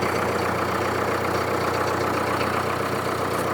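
A Solis 5724 tractor's diesel engine runs in first gear at medium speed, a steady, close, continuous drone with an even low throb and no voices.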